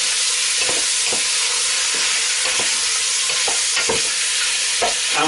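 Gammon searing in a hot pan for a cabbage stew, a loud continuous sizzle close by, broken by regular soft thumps and scrapes as the meat is turned.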